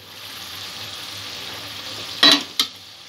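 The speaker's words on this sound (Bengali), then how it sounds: "মাংসটা প্রায় অনেকটাই কষা হয়ে গেছে, মশলা থেকে তেল ছাড়তে শুরু করেছে।" Chicken kalia meat sautéing in spices with oil separating, a steady close sizzle in the pan interrupted near the end by two sharp stirring clatters, with no voices.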